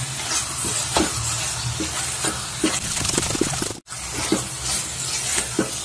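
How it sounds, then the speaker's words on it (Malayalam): Paneer bhurji masala is stirred in a hot pan, with a constant sizzling hiss broken by repeated scraping stirs and a brief pause before the frying resumes. "നല്ലതായിട്ട് ഇളക്കി കൊടുക്കാം മസാല എല്ലായിടത്തും പിടിക്കാൻ വേണ്ടി."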